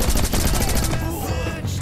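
Rapid, loud gunfire from the game Rocketbirds Hardboiled rattles in a dense burst, then eases off briefly before firing resumes near the end.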